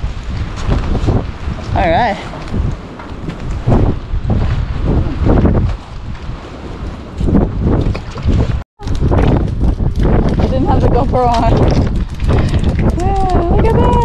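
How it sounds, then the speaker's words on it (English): Wind buffets the microphone in gusty, broadband bursts while people fish from a boat in rough weather off Bermuda, with a dropout near the middle. Several people talk over the wind throughout. "Quite windy, but it's"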